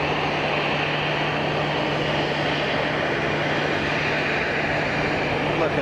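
An Embraer airliner takes off at Geneva Airport with a loud, steady, broad engine roar and a constant low hum.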